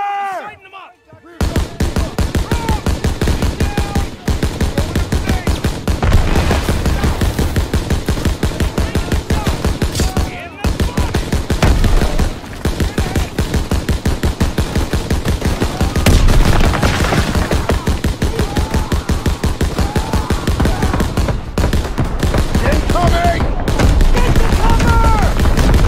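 Relentless World War II battle gunfire in Call of Duty WWII fills the stretch, rapid machine-gun and rifle bursts hammering almost continuously with booms mixed in, while shouted voices cut through the din.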